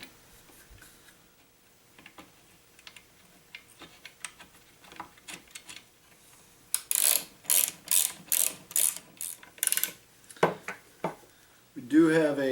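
A ratchet wrench bolts a bracket onto a homemade grinder slider jig, with a run of quick clicking ratchet bursts in the middle, preceded by softer shop handling noises and a voice near the end.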